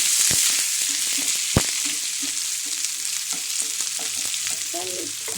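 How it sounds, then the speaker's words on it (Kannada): Onions fry with other ingredients in a hot pan, giving a steady close sizzle broken by sharp scrapes and clicks of a spoon stirring against the pan. "ಇದನ್ನೆಲ್ಲ ಚೆನ್ನಾಗಿ ಫ್ರೈ ಮಾಡ್ಕೊಳ್ಳೋಣ"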